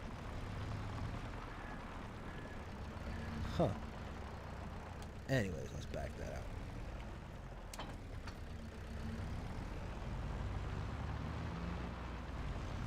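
A Zetor Major tractor engine in Farming Simulator 22 hums as a low, faint, steady drone through the whole stretch, with a few brief clunks, while someone talks over it.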